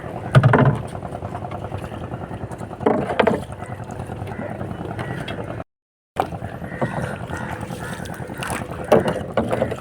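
Wind rushes across open water by a boat out mud crab hunting, buffeting the microphone in a steady roar. It cuts out briefly midway, and people talk over it throughout.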